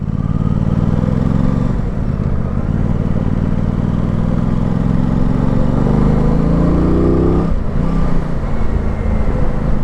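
Aprilia RS660 A2 motorcycle engine droning steadily while riding, a loud continuous hum with shifting pitch and a brief change near the end, heavy wind and road noise throughout, no talk.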